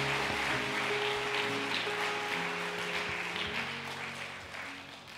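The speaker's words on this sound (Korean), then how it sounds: "큰 박수로 환영해 주시기를 바랍니다." Church audience at a Sunday service welcomes a visiting pastor with applause, a wash of clapping over held low musical tones from an accompaniment, steady and moderately distant, gradually easing toward the end.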